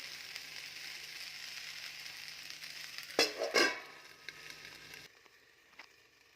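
Okra tossed with salt cooks in a pan with a steady, moderate sizzle, broken by a few scraping stirs near the end before the sound cuts off abruptly.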